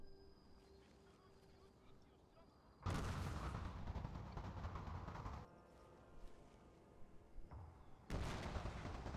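Cannon artillery fire in Shogun 2 Total War: Fall of the Samurai, with two heavy booming volleys that each roll on for a couple of seconds over quiet battlefield ambience.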